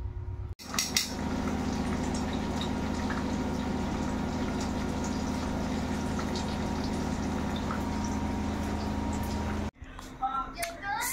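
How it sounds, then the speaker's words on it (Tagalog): Steady sizzling of spring rolls frying in hot oil fills the clip, with a few clinks of utensils, then it cuts briefly before another short stretch. "Tayo yung nagpiprito ngayon ng Shanghai"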